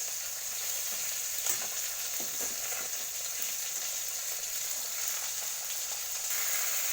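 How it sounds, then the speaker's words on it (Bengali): Pieces of katla fish coated with a little mustard fry in oil in a pan, giving a steady, close, loud sizzle and crackle throughout with no talking. "আমার মাছ অনেকটাই ভাজা হয়ে এসছে"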